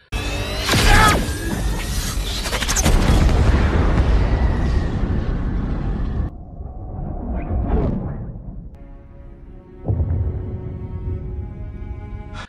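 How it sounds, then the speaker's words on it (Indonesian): A loud, booming explosion followed by rumbling and crackling, with a second burst of roaring blast noise near the end; no one speaks. "Hiro pun jatuh melesat ke bumi dan meledak."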